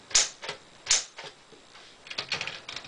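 Loud old manual typewriter struck in a few sharp, separate keystrokes, then a quicker cluster of clacks, heard close up against a quiet room.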